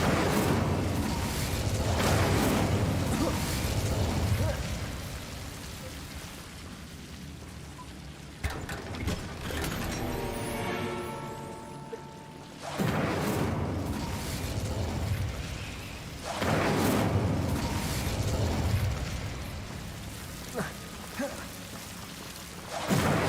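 Bombarda explosion spells going off in the video game Hogwarts Legacy, with several heavy booming bursts and crackling debris separated by quieter stretches that carry a ringing, shimmering tail.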